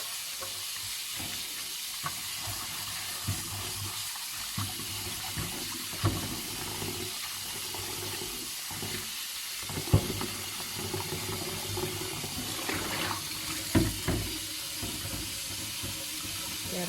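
Cha-om and betel leaves are rinsed under a running tap, with a continuous hiss of flowing water and intermittent splashes and rustles from the leaves being handled close by.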